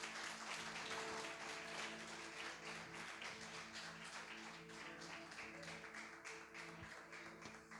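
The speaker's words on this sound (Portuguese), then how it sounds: "vamos aplaudir bem alto que é para Jesus" A church congregation applauding loudly for Jesus during an evening service, dense sustained clapping with steady instrumental tones underneath, heard at a distance and fairly faint.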